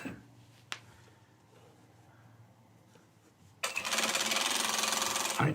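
A sewing machine stitching a shirt seam made from scraps, running after a quiet stretch with a single tap, then a loud, close, steady rapid whir through to the end.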